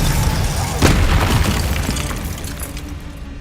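Spells such as Glacius and Expelliarmus cast in Hogwarts Legacy on PC: a loud booming blast with a shattering burst near the first second, then a rumbling decay that fades out.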